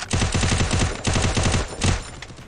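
Rapid automatic gunfire from a Free Fire match in a 4v4 wagered battle, with dense, loud bursts of shots running through the whole moment and a brief pause before a final burst.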